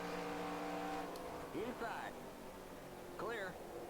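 A race car passes in a NASCAR racing video game recreating the 1998 Pocono 500, its engine pitch sweeping quickly as it goes by, twice over a steady engine drone, with a commentator talking throughout.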